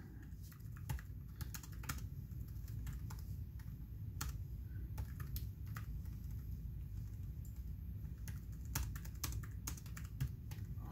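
Steady typing on the compact keyboard of a GPD P2 Max laptop, quick light clicks in uneven runs and pauses, close and quiet over a low hum.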